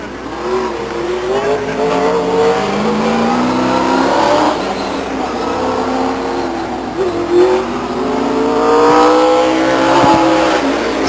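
A late model stock race car, number 6, laps a speedway oval during qualifying, its loud engine rising and falling through acceleration and corners as it passes, with faint tire squeal.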